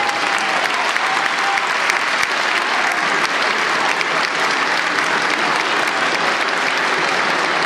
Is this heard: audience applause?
yes